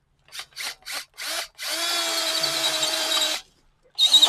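A power drill bores a hole during an FE3 turbo engine swap into a Mazda B2200 pickup. Four short close bursts build to one long sustained whine, followed by a fresh start.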